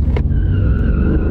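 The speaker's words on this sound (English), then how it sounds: "people want a little bit of noise out of their V8 pickup trucks" A Ford V8 pickup truck accelerating hard in sport mode, with a loud, close engine roar climbing in pitch as it pulls away and a brief tire chirp at the start.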